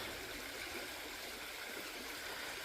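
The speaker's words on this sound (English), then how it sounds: "This little bridge goes over this little creek here." A small creek runs under a little footbridge on a trail in Oil Creek State Park near Oil City, Pennsylvania, giving a steady, soft, even rush of flowing water with no voices.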